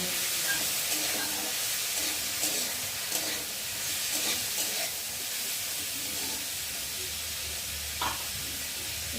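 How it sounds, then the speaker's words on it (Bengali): Sliced potatoes sizzle in hot oil with frying onion and chili for chow mein, a steady close hiss of frying with occasional stirring scrapes and clinks throughout. "পেঁয়াজ আর লঙ্কাটা দিয়েছি, ভাজা ভাজা হয়ে এসেছে। এবার কেটে রাখা আলু দিয়ে নেব।"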